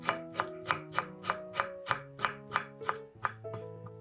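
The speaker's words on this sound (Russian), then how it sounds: "Нарезаем пучок укропа." A knife chops through a bunch of fresh dill on a board, about a dozen crisp, evenly spaced strokes at a brisk steady rhythm, close and clear with no talk.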